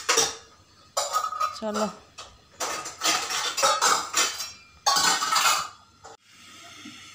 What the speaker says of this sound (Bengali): বাসন গুছাইতেছি